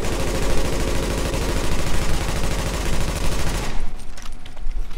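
Sustained automatic assault rifle fire in The Division, a rapid dense stream of loud close shots lasting several seconds before cutting off to a short tail.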